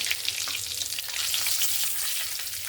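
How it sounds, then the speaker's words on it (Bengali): Whole cardamom, cinnamon, cloves and a little cumin fry in hot oil as a tempering, a dense, steady crackling sizzle close up, with no voices. "এখানে আমি ফোড়ন দিয়ে দেব গরম মশলা গোটা এলাচ দারচিনি লবঙ্গ আর সামান্য পরিমাণ জিরা"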